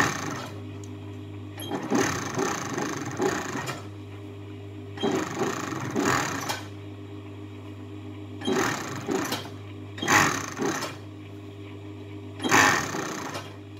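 Sewing machine stitching the hem of a knit dress in a tailor's shop, running in several separate bursts of a few seconds each with pauses between, close and moderately loud over a steady low hum.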